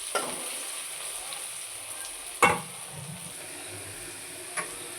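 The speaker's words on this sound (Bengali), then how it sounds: "মশলা ভালো করে ভাজা হয়ে গেছে" Ginger, garlic and spices fry in a pan for a light fish curry with a soft, steady sizzle, broken by a few sharp clinks of a spatula against the pan.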